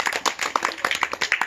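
A small group claps for the winner of a household game show contest, quick uneven hand claps up close for a brief burst.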